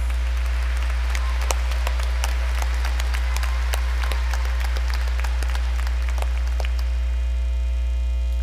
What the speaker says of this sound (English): Please give these nominees a round of applause.